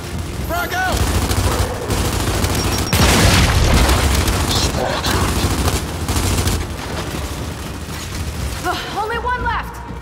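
Gears of War 5 combat: a frag grenade blast and rolling bursts of gunfire fill the scene, with a heavy boom near the three-second mark and shouted voices over the fighting.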